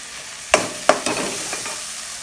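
Curry leaves dropped into hot oil with shallots for a river fish curry, two sharp bursts of spluttering followed by a softer lingering sizzle, close and loud.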